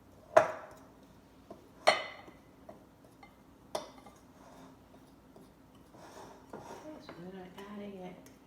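A fork clinks and scrapes against a bowl while pie crust dough is mixed, a few sharp taps followed by softer stirring, close by, with faint background sound.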